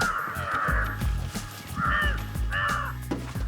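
Crows cawing in several harsh, clustered calls of two or three notes, fairly close and loud over a low background rumble.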